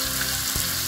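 Chunks of beef goulash hit a pot of hot clarified butter and fry with a loud, steady sizzle, close up, broken by one brief thud midway.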